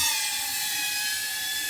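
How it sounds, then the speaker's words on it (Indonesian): A small 4-inch long-range FPV drone flies in cold mountain air near Merapi, giving a steady high-pitched whine of spinning propellers with a constant tone, close and continuous with no talking. "Drone kecil pakai 4 in."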